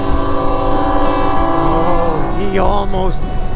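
A passing train sounds its horn with a loud, sustained blast that bends in pitch near the end, heard from a motorcycle on a highway, over a constant low rumble.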